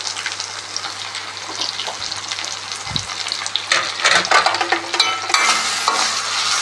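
Eggplant fries in a little oil for a chickpea curry: a continuous close crackling sizzle that grows louder and busier partway through, with occasional stirring scrapes.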